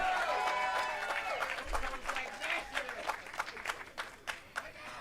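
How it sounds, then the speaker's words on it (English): Moderate applause from a ceremony crowd honoring F. Gary Gray on the Hollywood Walk of Fame, outdoors, with claps becoming more distinct and scattered as it fades, and voices mixed in early. "A round of applause for our honoree, F. Gary Gray."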